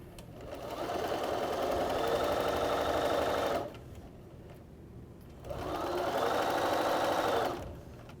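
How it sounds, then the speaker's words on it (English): A sewing machine runs in two steady bursts, stitching a quarter-inch seam across fabric triangles for a flying geese quilt block, with a short pause between runs and no talking. "Using a 1/4 inch seam,"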